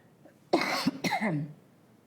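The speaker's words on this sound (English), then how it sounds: "I'll be coughing in between here and there" A single person coughs twice in quick succession, close and clear, with a throaty rasp, then silence.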